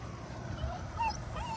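Aussiedoodle puppies whimper and yip softly in a short, faint burst of high, thin cries over a low background rumble.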